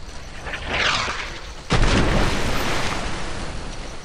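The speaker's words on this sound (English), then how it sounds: "I hear a lot of explosions." Explosions and artillery fire in the World War II shooter game Brothers in Arms: Earned in Blood: a rumbling blast swells early, then a sharp, loud detonation hits and its dense roar carries on to the end.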